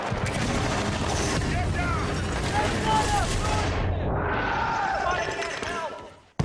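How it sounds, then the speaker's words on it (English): Sustained enemy machine-gun fire rattles continuously in Battlefield: Bad Company, a dense, loud barrage with explosive battle noise that stays steady before cutting off abruptly near the end. "I just couldn't seem to get rid of the machine gun"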